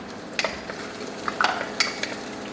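Garlic sautéing with onions in a pan, a steady close sizzle broken by occasional spoon taps and scrapes against the pan.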